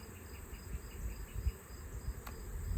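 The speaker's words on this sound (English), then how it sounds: "A lot of bees down in there." A dense, steady buzzing of many bees in an open hive close by, a continuous low drone with no voices.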